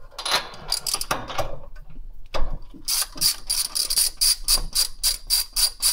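A ratchet with a wobble extension loosening spark plugs on a 1964 Corvair Monza, rapid clicking bursts close up, a short pause, then a steady run of about a dozen even clicks.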